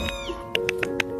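A little cat meows, a few thin high mews at first, then a run of short evenly spaced chirpy meows, close and fairly loud with no talk.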